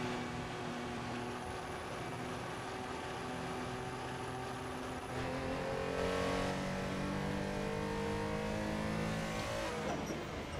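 A race car engine in Assetto Corsa, on a touge mountain road battle, drones continuously and loudly. The pitch climbs and strains through the second half as the car pushes through a long corner, with no speech.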